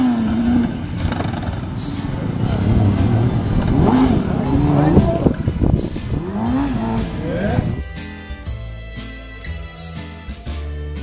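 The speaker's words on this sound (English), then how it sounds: "di sini ada motor sport" A sports vehicle engine in the video game Jurassic World Evolution 2 revs and whines with rising and falling pitch, then settles into a steadier drone, with excited talking over much of it.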